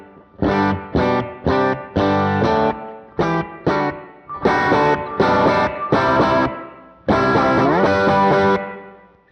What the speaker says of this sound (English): You know, it's just short reverb.